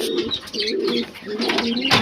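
Fancy pigeons in a home loft coo repeatedly in low, throaty phrases, close and fairly loud, with some faint chirps and no talking.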